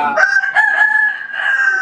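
A prized rooster crows once, nearby and loud, in a long drawn-out call with a rising start and a sustained middle, with no talk over it.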